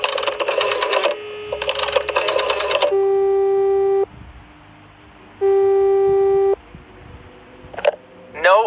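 Telephone ringing in the game Frequency Missing: electronic warbling ring bursts followed by two long steady tones, loud and close, with a short chirp near the end.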